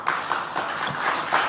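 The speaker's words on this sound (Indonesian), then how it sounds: "Tepuk tangan yang meriah kenapa ya?" Audience at an Indonesian political speech applauding, a short, moderate stretch of clapping, steady and somewhat distant, with a faint voice underneath.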